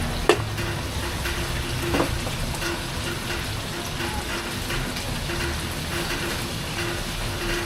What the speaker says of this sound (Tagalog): Naririnig nyo na ba siya nagsisizzle?